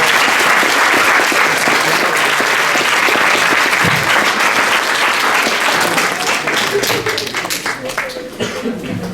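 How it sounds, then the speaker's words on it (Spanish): Sustained, loud applause from a conference audience welcoming the speaker of a talk on the 1985 Mexico earthquake, with dense clapping throughout that thins slightly toward the end. "Un fuerte aplauso para nuestro ponente."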